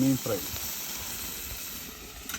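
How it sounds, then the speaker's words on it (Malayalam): Fish sizzles steadily in a hot pan, a soft continuous hiss with a brief voice at the very start. "മീൻ ഫ്രൈ"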